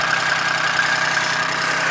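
Smoky excavator engine idling with a steady, even mechanical drone and faint rhythmic knock, close and loud, no voices.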